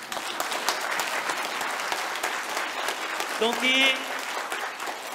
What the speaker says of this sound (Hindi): आपकी मर्जी आप ताली बजाना ना बजाना